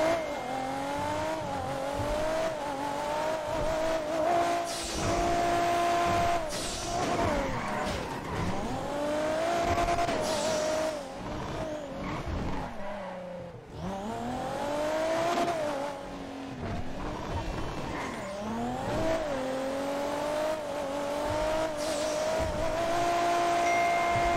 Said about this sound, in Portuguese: Mano, é muito alto o barulho desse carro, velho.